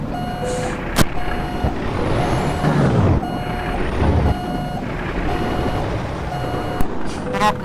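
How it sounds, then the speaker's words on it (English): A Kenworth W900 truck backing up, its reversing alarm sounding a steady series of evenly spaced beeps over a low engine rumble, with a hiss of air brakes partway through. "I'm going to put this in reverse"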